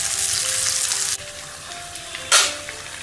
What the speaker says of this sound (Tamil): இப்போ நல்லா கோல்டன் ப்ரௌனாக மீடியம் ஃப்ளேமில் வச்சு நம்ம பொரிச்சிக்கலாம்